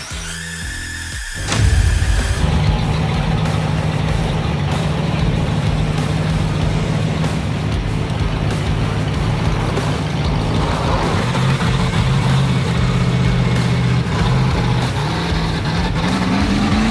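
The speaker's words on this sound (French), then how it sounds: "Bon là on va voir si la petite voiture électrique arrive à tirer le Monster Truck." A monster truck engine starts with a sharp burst and settles into a loud, steady droning rumble, its pitch climbing slightly near the end while a small electric car strains to tow it.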